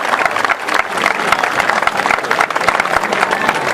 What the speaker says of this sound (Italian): fateglielo bello forte questo applauso